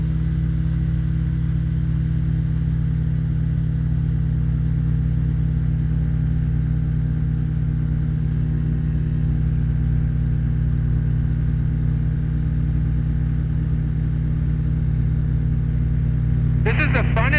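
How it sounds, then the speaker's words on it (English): Inside a de Havilland Beaver in flight, the new engine runs during its break-in as a steady, loud low-pitched drone, unchanging throughout, with a brief clatter near the end. "This is the funnest engine break-in I've ever done."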